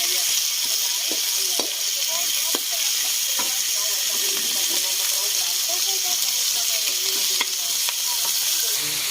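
Chicken pieces sizzle steadily in a hot pan while being cooked for bihon, a continuous close hiss with occasional sharper pops and crackles throughout.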